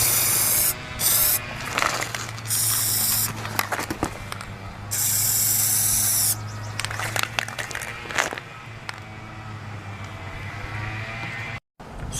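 Aerosol spray paint hisses in several bursts of varying length as a second coat goes onto an airsoft gun, with clicks and handling sounds between the sprays.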